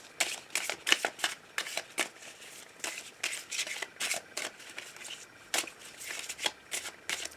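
A deck of oracle cards is shuffled by hand in a quiet room, a long run of close, crisp riffling bursts repeating at an uneven rhythm without talk.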